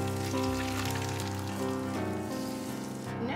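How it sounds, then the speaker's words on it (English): Hot oil poured over fish sizzles and spatters loudly up close, a dense crackling hiss that holds for a few seconds before quickly fading, with no talking over it. "Okay, so now I'm gonna drizzle this hot oil."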